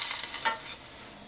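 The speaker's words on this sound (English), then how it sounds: "You can see it's all bubbling up here, but that's just the water boiling under the butter." Butter melts over boiling water in a pot, giving a soft, close sizzling and bubbling with a faint crackle, fading slightly toward the end.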